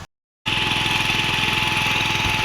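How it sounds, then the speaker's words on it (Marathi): A tractor ploughs a paddy field during traditional rice sowing, its engine chugging in a steady rapid rhythm, loud and close after a short silent start. "दुसऱ्या कोपऱ्यात ट्रॅक्टरची नांगरणी पण सुरू आहे"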